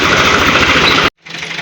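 A tractor engine runs loud and close with a steady low chugging idle, cuts out abruptly for a moment, then resumes more quietly.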